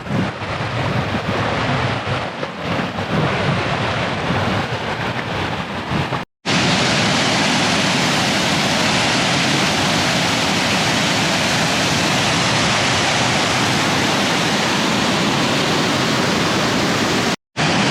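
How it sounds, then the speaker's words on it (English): A steady, powerful roar of a desert waterfall at Ancient Lakes, loud and continuous, with brief dropouts. "Check out that beautiful waterfall."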